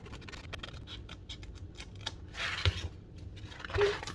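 Scissors cut along a traced line on a small craft piece for a Christmas stocking stuffer, quiet close snipping and scratchy paper-like sounds in short uneven bursts.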